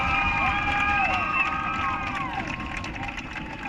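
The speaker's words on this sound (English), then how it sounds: "Give them one more big round of applause." Spectators in the stands at a high school varsity football game applaud and cheer, a dense crowd roar with scattered whistles and shouts, fairly loud and steady.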